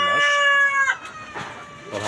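Four-month-old native deshi chickens in a home flock: a drawn-out call up close, then scattered softer clucks and faint voices in the background.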